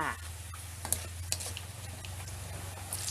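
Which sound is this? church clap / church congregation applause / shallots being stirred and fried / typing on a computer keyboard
shallots being stirred and fried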